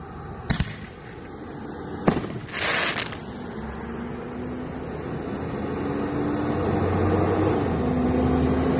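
Fireworks bursting outdoors, a couple of sharp close bangs followed by a crackling, hissing burst, then a low steady rumble carrying on afterward.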